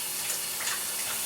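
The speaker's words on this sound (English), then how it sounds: "I'm going to rinse my hands off real quick" Water runs from a kitchen tap while hands are rinsed, a brief steady hiss of flowing water close by.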